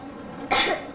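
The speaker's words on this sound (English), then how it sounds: "I have this cough." A girl coughs twice in Metro Exodus, a short, loud, close burst followed by a second brief cough.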